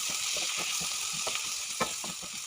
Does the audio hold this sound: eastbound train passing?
no